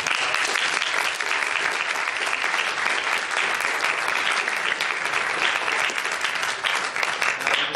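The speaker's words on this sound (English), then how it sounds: "So we have a round of applause for Ken." A seated audience at a panel discussion on economics graduates gives speaker Ken a round of applause, with dense, continuous clapping close by and steady for the whole stretch.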